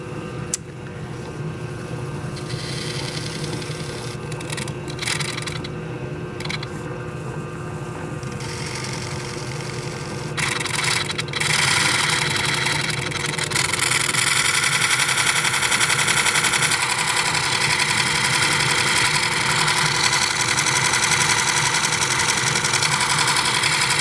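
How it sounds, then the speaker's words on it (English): A wood lathe turns a chess rook blank with a steady, dense machine whir and broadband cutting rasp that thickens partway through and stays loud and continuous, with no talking. "So I'm gonna make the lathe turning."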